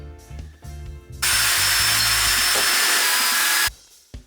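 A power drill drives screws into scrap wood for a table, one long loud whirring run after brief clamp and handling knocks, then cutting off abruptly.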